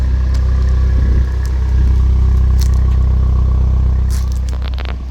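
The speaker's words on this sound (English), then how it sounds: "Nice exhaust, you can hear it here." A turbocharged 2018 Fiat 500 Sport idles with a steady, loud low exhaust rumble, close up, with a few light clicks and rattles over the drone.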